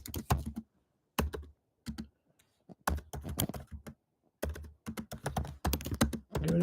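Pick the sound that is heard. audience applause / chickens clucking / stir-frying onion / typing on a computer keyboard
typing on a computer keyboard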